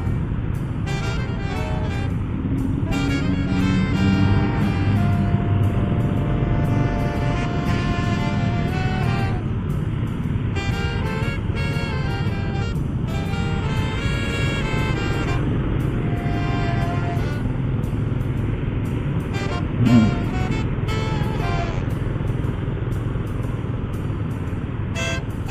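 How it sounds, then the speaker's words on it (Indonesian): Busy road traffic heard while riding, with a steady engine and road rumble throughout and car horns tooting repeatedly, some short toots and a longer honk, close and loud with no talk. "saya naik mobil ini"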